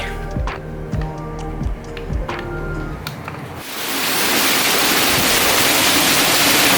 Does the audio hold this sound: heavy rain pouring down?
yes